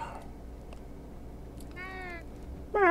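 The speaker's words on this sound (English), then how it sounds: "Meow." A cat meows in the Minecraft Bedrock Edition video game, two clear, drawn-out cries with the second louder near the end, over a quiet low background.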